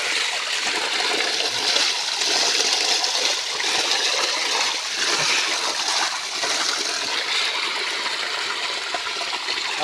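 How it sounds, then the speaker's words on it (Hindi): Water gushes from an irrigation pipe into a field, a loud, steady rushing and splashing flow that continues without a break, with no voices. "ये पानी पाइप से आगे जा रहा है।"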